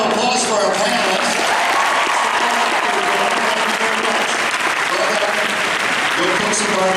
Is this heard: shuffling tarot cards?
no